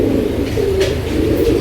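Nepali and teddy pigeons coo in low, throaty, repeated calls close by, continuous through the short stretch.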